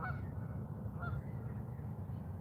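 Several geese honk in short nasal calls, two clear bursts near the start and at one second, over a steady low rumble of background noise, with no voices.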